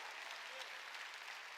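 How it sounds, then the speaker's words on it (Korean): A church congregation applauds during a Wednesday worship service, a soft, distant, even wash of clapping that sounds faint throughout. "빨리 박수로 하나님께 영광되어."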